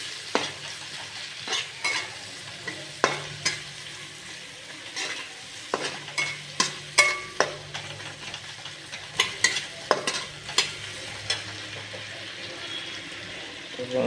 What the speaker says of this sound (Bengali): এটাকে একটু নেড়ে নেওয়া হচ্ছে।